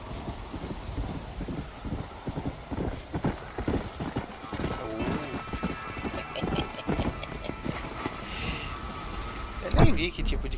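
Horse hooves clip-clop at a steady trot in Red Dead Redemption: Undead Nightmare, close and rhythmic over wind ambience, with people talking over the hoofbeats and a horse whinnying near the end.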